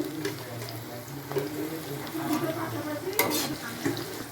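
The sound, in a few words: cumin seeds tempering in hot oil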